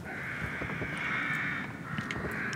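Crows caw steadily in the distance in the video game The Evil Within, a harsh continuous chorus of calls over a quiet outdoor backdrop.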